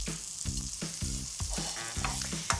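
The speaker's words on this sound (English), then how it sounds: "And we'll start frying that off." Steady sizzling of garlic, ginger and coriander roots and stalks frying in a hot pan, with repeated low thumps and scraping as it is stirred, fairly close and continuous.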